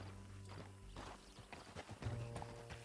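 Horse hooves clip-clop across ground in Red Dead Redemption 2, an uneven series of hoofbeats close by with a brief whinny-like tone, set against low background game ambience.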